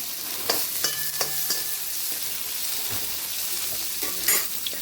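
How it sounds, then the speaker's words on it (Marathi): Onion fries with mustard seeds in hot oil while being stirred, a constant close sizzle with occasional scraping strokes and clinks of the spoon against the pan. "मोहरी झाल्याच्यानंतर कांदा घालून घ्यायचा आणि तो लालसर होतं परतून द्यायचा."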